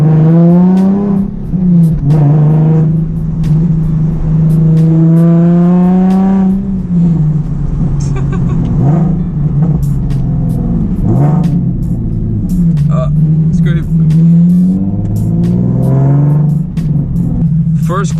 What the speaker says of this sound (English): who doesn't love a 370Z with a lot of exhaust and POV?